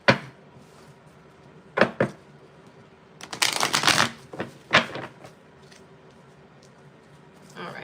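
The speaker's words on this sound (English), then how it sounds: "Let's shuffle again." Tarot cards being shuffled in several quick riffling bursts, with short pauses between them and one longer, louder run in the middle; close and clear.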